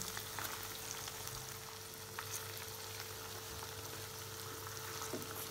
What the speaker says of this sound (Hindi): अब इसको अच्छे से दूसरी साइड भी फ्राई होने देंगे।